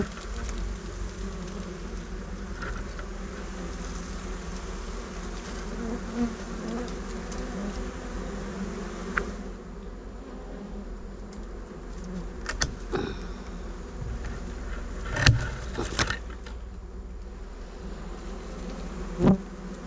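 Dwarf honey bees swarm around their nest close by, giving a dense, continuous buzz with a few louder passes as individual bees fly near, and no talk.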